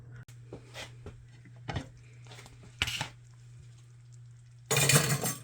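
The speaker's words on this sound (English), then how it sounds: "we are going to put that lid back on there" A lid is set back on a crockpot slow cooker of shrimp and sausage gumbo, making a few light clinks and knocks over a low hum, ending in a louder rattling clatter.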